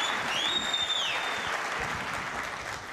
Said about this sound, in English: Wild applause for one pot.